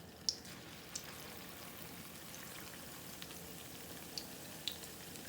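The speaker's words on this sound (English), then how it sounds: "I am putting my cornbread in here in my grease before this cast iron skillet get too hot" Cornbread batter frying in hot grease in a cast iron skillet, a steady low sizzle throughout with a few faint pops and crackles scattered across it, no voices.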